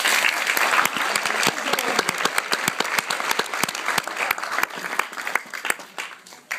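An audience at the final of a student virtual-enterprise competition claps, a dense burst of applause that thins out into scattered individual claps toward the end.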